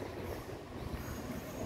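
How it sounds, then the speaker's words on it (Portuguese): A metro train passing at a station in Taiwan, a faint steady rumble of wheels and carriages with some squealing, heard from a distance without talk. "Metrô passando."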